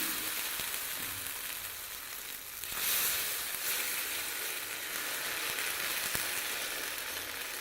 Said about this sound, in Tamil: தோசைக்கல் சூடாயிடுச்சுங்க தோசை ஊற்றிக்கலாங்க